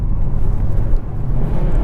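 A 1990 Mazda Miata MX-5 engine pulls steadily under throttle in second gear, a loud continuous low rumble heard from inside the cabin with no talk over it.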